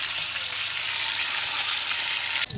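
Pork searing in a hot pan ahead of a pork and cabbage boil up, giving a loud, steady, close sizzle that holds evenly for the whole moment with no talking.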